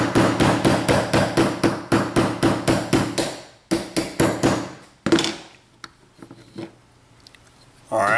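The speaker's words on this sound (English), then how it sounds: "take your hammer and give it a couple good taps" A hammer strikes a 3/32 inch punch to drive an SKS trigger pin out, giving a fast run of sharp, evenly spaced taps up close, then a pause, a few more taps and scattered small knocks.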